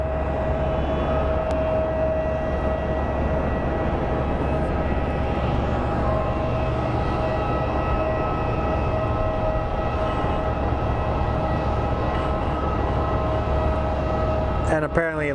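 A British Airways airliner on final approach at Phoenix Sky Harbor International Airport gives a continuous distant engine roar with a steady whine, under a constant background drone.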